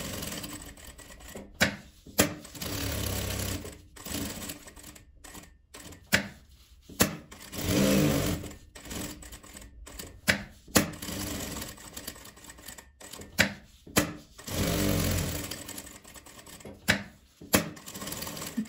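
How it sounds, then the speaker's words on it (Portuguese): A sewing machine stitches fabric in a beginner sewing project, with short uneven bursts of mechanical clatter broken by frequent stops and clicks, near and fairly quiet. "Vou levar lá na máquina e vou costurar ele todo."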